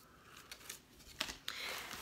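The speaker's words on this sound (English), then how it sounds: "I picked up this little pair of hair cutting scissors" A small pair of hair-cutting scissors makes a few faint, close snips and clicks, spaced irregularly in quiet surroundings.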